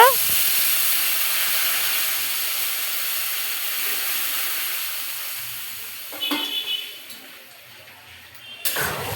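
Lentils tip into a hot karai of reddened fried onions. A steady frying hiss rises into short bursts of louder sizzling and stirring, then a final sharp spurt.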